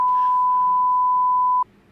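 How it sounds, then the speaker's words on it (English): A steady, pure censor tone covers a swear word, running unbroken for about a second and a half before stopping abruptly and leaving quiet room sound. "There's going to be a lot of beeps in this then."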